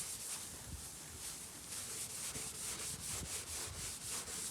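Steady, close abrasive rubbing on an oxidized plastic headlight lens being hand-restored, a continuous gritty scrubbing with rhythmic back-and-forth strokes, fairly loud and without talk.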